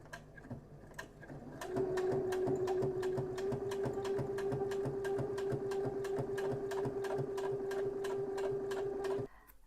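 Sewing machine stitching close to the edge of a travel jewellery and medication pouch, a steady rapid needle rhythm with a humming motor tone running for about eight seconds before stopping abruptly, near and without talk.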